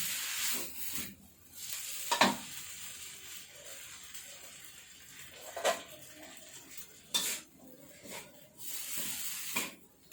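Rice noodles stir-fried for pad thai, a hissing sizzle under repeated metal spatula scrapes and clanks against the pan, close and uneven, with brief gaps between strokes.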